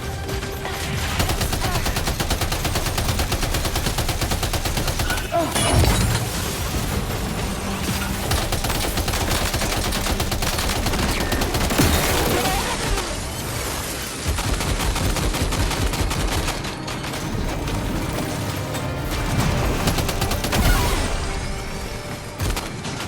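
Heavy gunfire from a firefight in the video game Death Stranding 2, dense sustained bursts with booms and thuds layered over a continuous loud game soundtrack for the full stretch.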